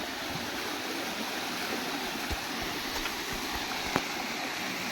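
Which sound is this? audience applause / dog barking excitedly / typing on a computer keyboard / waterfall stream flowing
waterfall stream flowing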